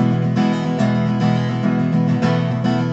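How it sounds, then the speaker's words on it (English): Steady strummed guitar chords repeating in an even rhythm, each strum landing with a bright attack, played close and alone without any voices. "if I move it to the eighth note of one, it would sound like this"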